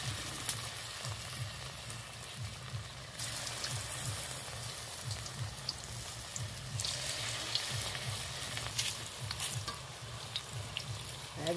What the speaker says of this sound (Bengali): একদম এভাবে ছোটো ছোটো করে উল্টে পাল্টে ভেজে নেব।